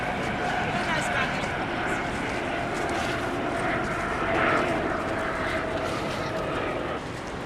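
A helicopter drones steadily overhead in Sydney, its engine a continuous, fairly distant rumble with a slight swell midway, while voices murmur underneath.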